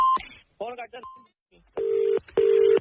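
A telephone being dialed: a few short keypad beeps and a brief tone, then a quiet gap before two long, steady ringing tones in an earpiece, with a snatch of speech early on.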